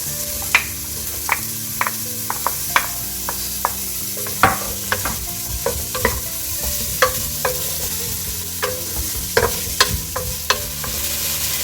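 Small shallots frying in a pan for Wayanad green pepper chicken curry, a constant sizzle broken by frequent sharp clinks of a spoon stirring against the pan, close and fairly loud.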